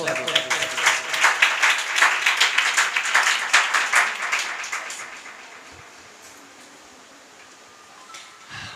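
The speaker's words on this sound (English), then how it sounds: "clap for Habiba" Audience at a Teachers Day celebration in an English academy claps for a speaker, a lively burst of close applause for about five seconds that dies away into quiet room noise with faint voices.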